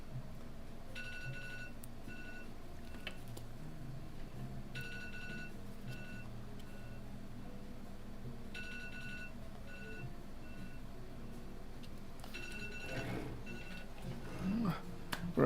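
A telephone rings in a repair workshop, repeated short bursts of electronic trilling in evenly spaced groups, moderately faint against steady background hum and occasional handling sounds.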